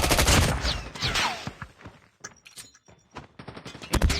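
Gunfire in the video game Call of Duty Mobile: a close burst of rapid automatic shots followed by scattered single cracks and distant reports.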